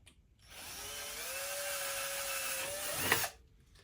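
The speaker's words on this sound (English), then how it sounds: "So I just need to open up the hole with a drill" A power drill whirs steadily for about three seconds opening up a hole, its motor pitch wavering slightly, then cuts off with a brief rise as it stops. Close and loud.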